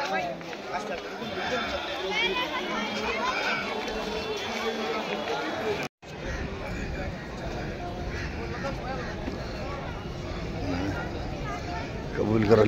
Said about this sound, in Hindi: देखो कैसे भीड़ हो रही है।